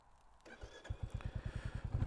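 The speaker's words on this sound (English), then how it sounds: "Today I'm on my Royal Enfield Classic 350." Royal Enfield Classic 350 motorcycle engine thumping as the rider sets off, a close single-cylinder beat that quickly settles into a steady, rapid pulsing rhythm and grows louder.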